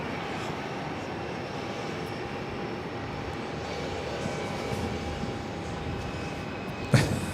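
An Airbus A380 taking off at JFK gives off a distant, steady low rumble with a faint whine, ending in a brief sharp knock near the end.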